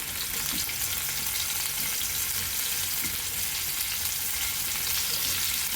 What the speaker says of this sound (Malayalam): നമുക്ക് മീൻ ഓരോന്നോരോന്നായിട്ട് ഇട്ട് കൊടുക്കട്ടോ.